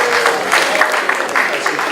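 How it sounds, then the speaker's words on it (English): A round of applause for a table group at a public planning session, a brief, fairly loud burst of clapping from a room of participants. "a round of applause for table 1"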